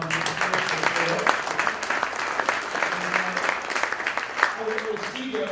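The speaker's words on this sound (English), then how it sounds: "just another round of applause for everybody that made time to come." An audience at a business panel event applauds steadily for several seconds, with dense clapping sustained throughout and some voices audible underneath.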